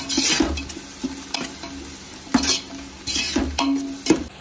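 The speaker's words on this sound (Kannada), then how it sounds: "1 ಡ್ರೈ ಲೆಮನನ್ನು ಈಗ ಹಾಕಿ ಚೆನ್ನಾಗಿ ಫ್ರೈ ಮಾಡಿ." Biryani masala, chilli powder, garam masala and dry lemon fry in a pot for chicken tikka biryani, with a steady sizzle broken by repeated scraping stirs and clinks of a spoon against the pan, close and alone.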